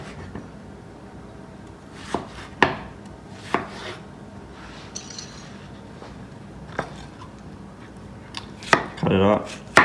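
A knife chops cucumbers on a board for a Big Mac salad, a handful of sharp, spaced knocks ringing close, with a brief scraping rustle near the end.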